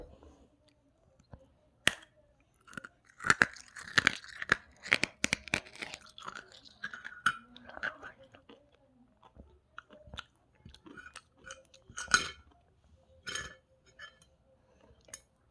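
Crisp crunching and chewing of a hard dalgona sugar-candy snack from a convenience store, close and quiet, with sharp irregular bites and cracks spread over the span.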